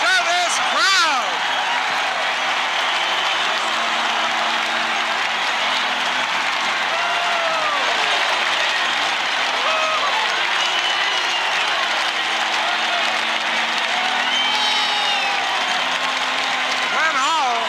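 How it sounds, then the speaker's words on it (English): Hockey arena crowd roaring steadily after a Terry Crisp goal against St. Louis, a loud sustained wall of cheering and applause with whoops, under continuous excited play-by-play commentary. "Listen to this crowd!"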